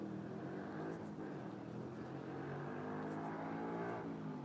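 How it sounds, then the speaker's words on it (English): A motorbike engine revving in a residential neighbourhood, a steady mid-distance drone with faint rising and falling tone, fairly quiet and sustained throughout. "That's just Mrs. Angels on a motorbike"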